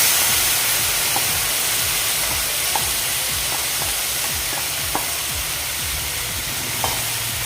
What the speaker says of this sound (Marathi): आता आपण शिजवलेली मटकी यावर घालून घेऊया